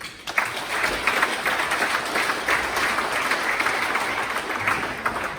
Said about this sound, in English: Thank you team, another round of applause.